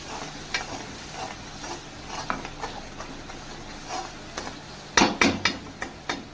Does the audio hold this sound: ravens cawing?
no